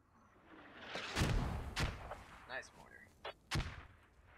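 Mortar fire in the military shooter game Squad: a few heavy booming thuds spaced irregularly, fairly distant and muffled, with brief quieter bursts between them.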